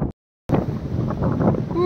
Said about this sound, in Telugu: గాలి అయితే తిరగేస్తుంది,